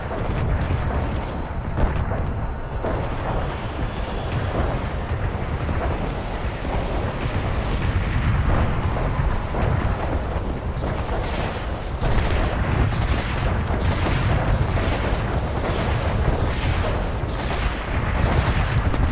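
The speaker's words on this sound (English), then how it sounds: "Airstrike en route." Airstrike in the Renegade X video game: a sustained barrage of deep booming explosions rumbles loudly and continuously, with repeated heavy blasts layered over one another.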